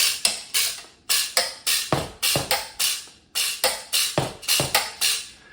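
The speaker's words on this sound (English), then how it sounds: "you can kind of get this little kind of Vibraslap sound if you want" Loose screws rattle inside the top section of a System 76 beatbox saxophone, producing a Vibraslap-like buzz in quick repeated bursts, each strike decaying sharply, loud and close.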